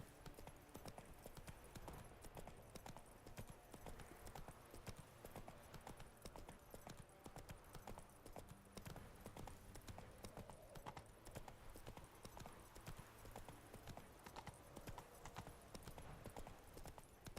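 Hoofbeats of the horse Roach galloping steadily in The Witcher 3: Wild Hunt, a continuous rhythmic clip-clop under a dense game soundscape with no talking.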